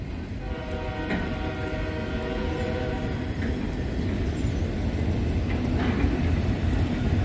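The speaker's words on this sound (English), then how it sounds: "a slow auto rack train" A slow autorack freight train rumbles steadily past close by, a continuous low roar with squealing tones, with rain hissing in the background.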